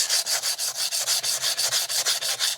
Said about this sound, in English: all we're trying to do is remove the surface rust